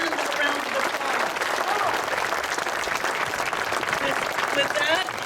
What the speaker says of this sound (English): Please give them a thank you, a donation, and a round of applause